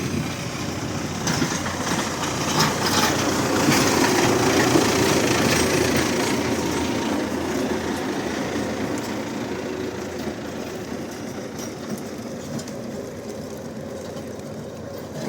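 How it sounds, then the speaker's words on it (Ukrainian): A tractor engine runs in a snowy town street in Truskavets, a steady low mechanical rumble and idle drone that swells slightly in the middle and continues throughout amid outdoor ambience. "Олександр, Кварта, голуби і трактор в одному кадрі"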